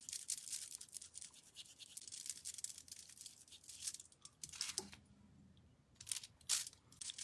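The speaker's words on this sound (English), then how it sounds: "Just dry brushing here." A brush dry-brushing paint onto a small fairy garden gnome figurine, making faint, quick bristly scratching strokes in short repeated bursts with brief pauses, alone and close.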